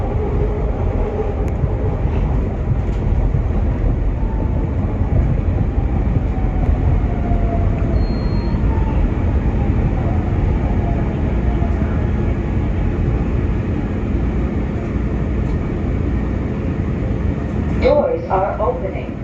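A SEPTA Market-Frankford Line train on a Frankford-bound run rumbles steadily along the track from the front car, with a loud continuous roar and faint squeals, and a brief metallic screech near the end.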